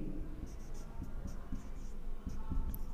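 Pen writing a diagram description on paper during a trigonometry lesson, a series of faint, soft scratchy strokes close by over a low background hum.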